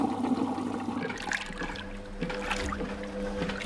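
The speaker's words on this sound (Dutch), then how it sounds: "De wasmachine loopt vol met wasmiddel en water." Cartoon washing machine in Peppa Pig filling with detergent and water, a continuous sloshing, gurgling rush with trickling bubbles, fairly close and steady with no talking.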